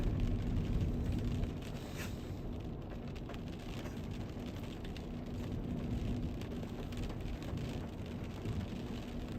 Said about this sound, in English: Rainy day, guys. Miami.